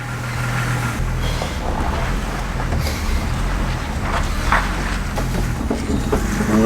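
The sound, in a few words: car driving down a back alley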